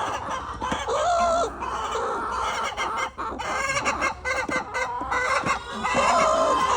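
Hens cluck and squawk on a poultry farm in a busy, overlapping chorus, with a few louder calls rising close by.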